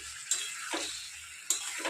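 Chicken pieces frying in hot oil for biryani, a quiet steady sizzle broken by a couple of sharp scraping stirs of a spatula in the pan.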